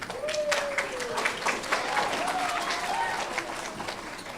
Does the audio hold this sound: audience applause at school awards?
yes